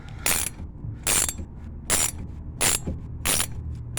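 A ratchet wrench cranks on the front shock of a 1999 Ford Explorer, five evenly spaced bursts of rapid clicking, close and loud, with short pauses between strokes.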